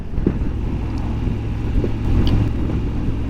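Car driving on a road on a long trip north in Norway, a steady low engine and tyre rumble with slight swells in loudness throughout, close and continuous with no talking.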